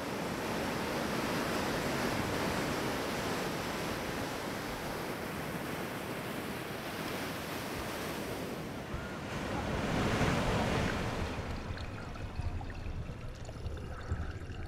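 Ocean surf breaking on a beach where sea turtles head into the water, a continuous loud wash of waves with a swell of louder surge near the end, alone without talk.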